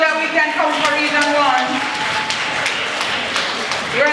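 An audience of school principals at a retreat's opening ceremony claps, a dense patter of applause running steadily throughout, with a voice talking over it at the start.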